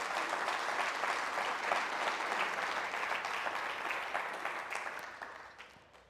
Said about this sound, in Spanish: ¿Cuántos dan una ofrenda de palmas?